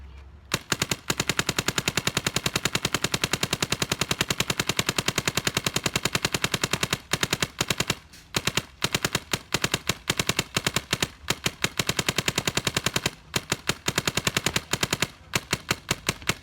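A Dye DSR paintball marker rattles off rapid bursts of shots at close range, a fast even stream of sharp pops broken by a few brief pauses, with no talking.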